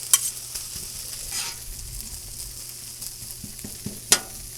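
Fried rice being stirred and broken up on a Blackstone griddle, steady close sizzle of frying with scraping and clicking of a spatula against the flat top, a few sharper hits standing out.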